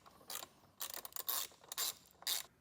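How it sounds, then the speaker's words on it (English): A ratchet fitted with a 10mm socket works loose a terminal post on a 2024 Kia Telluride, giving several short bursts of close, crisp metallic clicking separated by brief pauses, with no voices. "which will be a 10mm socket. We'll just get this loosened up."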